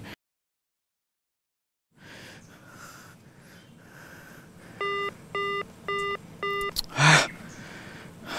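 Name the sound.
telephone call ringing while redialing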